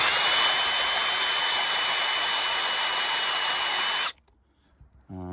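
A power drill with a Forstner bit bores into a raw turnip, a loud steady whine for about four seconds that stops abruptly, leaving near silence and a short low hum at the end.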